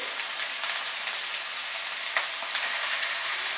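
Small prawns fry in an oiled pan over medium heat, a dense even crackling sizzle like steady rain, with a few brighter pops, close and unbroken with no talking.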